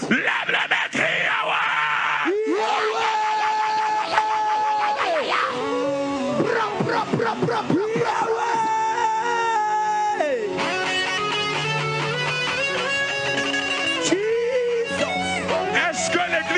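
A congregation screams and cries out during a French-speaking church service, a dense, continuous mass of raised, wailing voices over loud sustained music.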